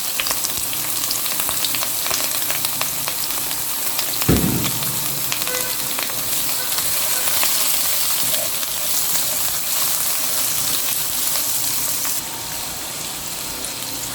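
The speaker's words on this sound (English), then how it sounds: "To the oil, I'll add my onion." Onion frying in a small amount of oil for a simple egg sauce. A loud, continuous close sizzle runs throughout, with one brief knock partway through, and the level drops slightly near the end.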